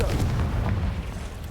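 A deep, rumbling blast from the Confringo explosive spell in Hogwarts Legacy, a dense low boom that fills the whole moment with no voices.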